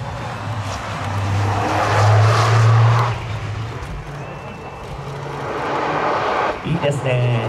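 A rally car passes on a special stage, its engine swelling to a loud nearby roar and then fading, while a commentator talks over it throughout.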